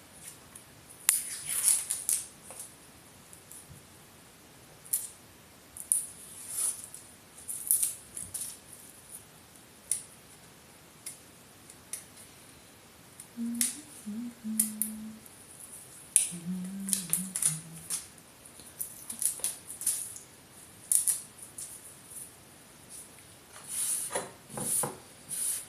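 A vegetable is peeled and sliced for soup, with scattered crisp scraping and cutting sounds in short bursts, close and fairly quiet, with brief murmured voices in between.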